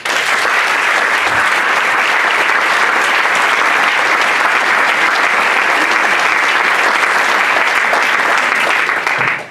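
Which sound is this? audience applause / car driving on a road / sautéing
audience applause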